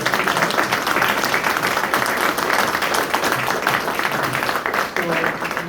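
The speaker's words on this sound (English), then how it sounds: "please, let's give an applause to Maestro Rocha." Audience applause, dense continuous clapping from a crowd across the whole stretch, with voices mixed into it.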